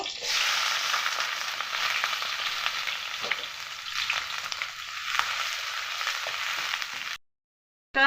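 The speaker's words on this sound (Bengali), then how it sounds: "দিয়ে দেবো তেজপাতা একটু লাল করে ভেজে নেব" Bay leaves fry in white oil in a pan, a dense, even crackling sizzle heard up close for about seven seconds with faint stirring taps, then sudden silence before a brief final sound.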